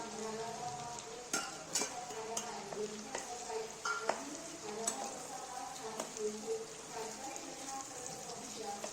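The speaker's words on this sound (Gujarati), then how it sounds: "કેપ્સિકમ મરચાં આપણે પહેલાં એટલા માટે નાખ્યા છે કે થોડાક કાચા ન રહે અને તેલમાં થોડા ફ્રાય થઈ જાય" Capsicum frying in oil for paneer tikka masala, a soft sizzle with occasional stirring taps beneath someone talking throughout.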